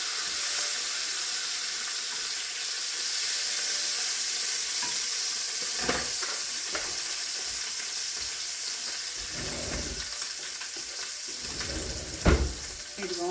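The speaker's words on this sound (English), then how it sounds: "I'm going to flip this over. Brown up this bacon." Bacon fries in a pan with a constant bright sizzle, interrupted by a few louder crackles and utensil bumps as the strips are turned, with faint background movement.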